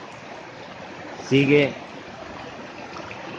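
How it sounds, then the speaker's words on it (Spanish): Water flowing steadily in a stream as a continuous hiss, with a brief spoken word rising over it partway through. "Este agua que lleva ya circulando aquí desde hace varios meses"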